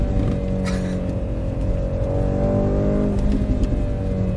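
A 2023 Mercedes-AMG C63 S with a hybrid four-cylinder engine, heard from inside the cabin: a steady, droning engine note building under acceleration, fairly constant in loudness, with no talking.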